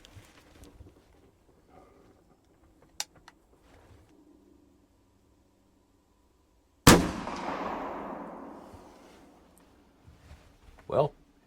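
A single loud muzzleloader rifle shot, fired outdoors while sighting in a scope, cracks sharply and rolls off in a long echoing boom; quiet outdoor ambience and a few small knocks come before it, with brief speech at the end.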